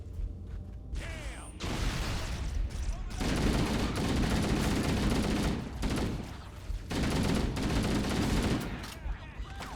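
Sustained bursts of automatic gunfire from Halo: Combat Evolved pound away in long volleys separated by brief pauses, loud and close, mixed with other in-game effects.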